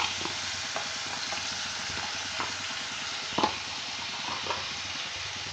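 Spice masala of ginger, onion and garlic paste sizzles steadily in mutton fat for a chana potol dish, with a spoon stirring and scraping through it in repeated soft strokes and one sharper clink near the end.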